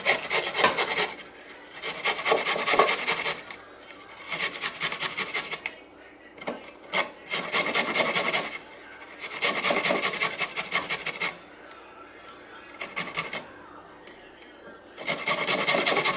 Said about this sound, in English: I'm going to grate the garlic cloves